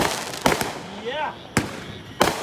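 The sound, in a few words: backyard fireworks display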